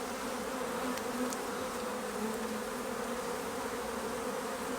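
Honey bees hum steadily around an open beehive during an inspection, a dense, continuous close-up drone with no talking.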